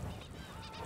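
Seagulls call around a fishing boat as leftover fish is thrown to them, a short burst of loud, harsh honking cries close by over engine and water noise.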